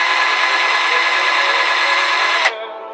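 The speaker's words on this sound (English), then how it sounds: "This is a low-end tool, so I would think it's a Mansfield brand, so I would think it's fairly noisy." Low-end Mansfield brand power tool running loud and close with a steady high whine, then abruptly dropping to a quieter hum as it cuts off near the end.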